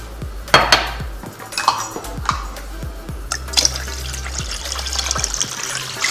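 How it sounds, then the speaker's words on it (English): Water poured from a container into a regular saucepan in a home kitchen, with clinks of metal pans and utensils and a brief trickle, close and fairly quiet. "you're going to pour in 6 cups of water into it"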